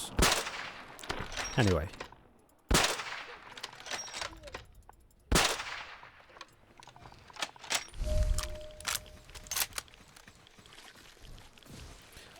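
Several sharp, loud gunshots ring out at irregular intervals in Fallout 4's zombie apocalypse setting, each with a short echoing tail, mixed with game noises and someone talking briefly.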